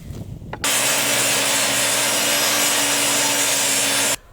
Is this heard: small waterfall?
no